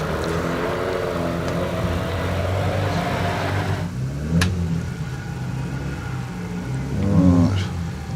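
Datsun 1600 racing car at a hillclimb, its engine droning steadily with rising and falling revs and a sharper burst near the end, fairly close and loud without talk.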